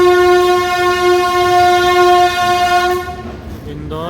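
A train arriving at a station sounds a long, steady, loud horn blast for about three seconds, then it cuts off into rumbling and a brief rising tone at the end.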